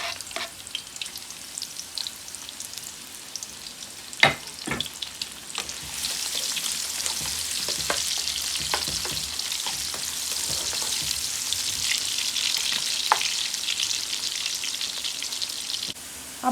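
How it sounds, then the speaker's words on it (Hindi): Onions drop into hot oil for mixed dal, crackling with an uneven popping sizzle that swells louder and brighter midway, with a few sharp clinks of stirring, close and continuous. "तेल गरम हो गया, अब इसमें हम डालते हैं प्याज"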